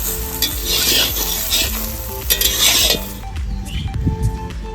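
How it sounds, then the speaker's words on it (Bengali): Chopped vegetables hiss and sizzle in a hot frying pan, stirred with scraping and occasional utensil clinks; the frying is loud at first, then eases to softer stirring sounds. "কেটে রাখা সবজিগুলো দিয়ে নিচ্ছি।"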